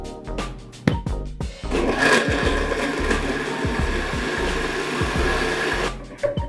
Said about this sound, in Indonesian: selanjutnya kita proses dengan blender hingga lembut